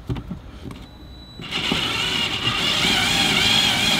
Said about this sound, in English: I'm going to take my screw gun,